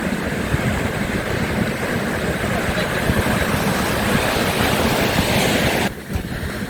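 Sea waves roll in steadily in front of a coastal town on the northern Spanish coast near Gijón, a broad continuous wash of surf mixed with wind rumble, ending with a brief dip in level.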